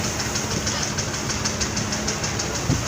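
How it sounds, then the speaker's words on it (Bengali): Passenger launches pulling away from Sadarghat terminal in Dhaka, a steady low engine drone and rumble with faint repeated knocking, continuous throughout amid busy riverside ambience and some indistinct background voices. "ঢাকার সদরঘাট দেখতে পাচ্ছেন দক্ষিণের লঞ্চগুলো এভাবে ছেড়ে যাচ্ছে।"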